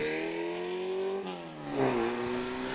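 A Formula First race car pulls away from a pit stop during a one-hour race in 2023, its engine note steady and then climbing as it accelerates, moderately distant and heard alone.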